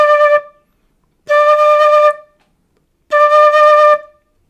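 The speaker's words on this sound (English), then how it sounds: "We're gonna do small blow of air to produce the low D." Quena flute sounding a low D, three breathy sustained notes, the first short and the next two held about a second each, with silent gaps between them and no talk.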